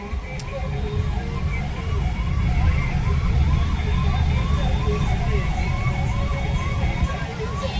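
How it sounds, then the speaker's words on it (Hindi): Ambulance siren wailing in steady repeating cycles through busy road traffic in Agra, India, loud and continuous over a dense rumble of engines and horns. "एम्बुलेंस को आगे निकलवाने की कोशिश कर रहे हैं"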